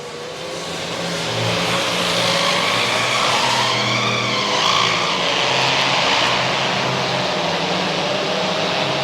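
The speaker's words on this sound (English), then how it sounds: "This is one of the car movers we have." A motorized car mover machine hauling a classic muscle car inside a museum building, giving a steady droning engine hum with a slight rise in pitch mid-way, fairly loud and continuous, no talking.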